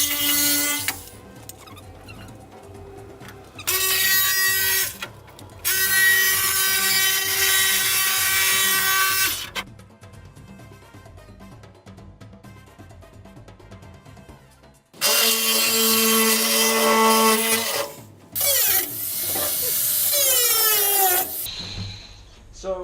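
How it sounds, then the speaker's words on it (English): A Makita reciprocating saw cuts through the metal roof of a school bus being converted, loud harsh buzzing bursts starting and stopping several times with quieter gaps between cuts. "The saw I'm going to be using is a Makita reciprocating saw."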